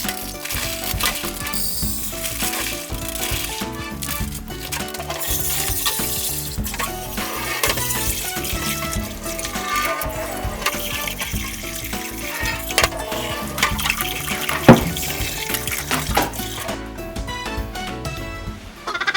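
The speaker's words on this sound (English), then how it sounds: "So, I bought glutinous rice and azuki. We have to wash them using water." Glutinous rice and azuki beans washed by hand in water, with continuous sloshing, rattling grains and swishing liquid for nearly twenty seconds, close and steady with no talking.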